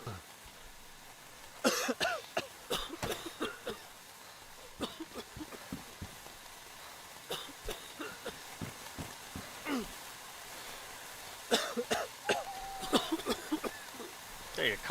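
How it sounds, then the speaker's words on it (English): Repeated dry coughs in bursts, close to the listener, with breathy pauses and some muffled shuffling between them. "you're coughing right in my face."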